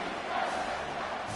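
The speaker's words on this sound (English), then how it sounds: "Here comes this home crowd as the defense tries to get off the field on third down" Home crowd roaring at a 1984 USFL preseason American football game, Washington Federals at Tampa Bay Bandits, on third down: a brief, steady, distant stadium roar with no clear voice on top.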